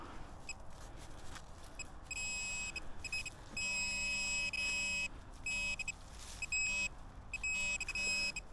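A metal detector beeps in repeated high, steady tones, some long and some short, over a quiet outdoor background in a forest.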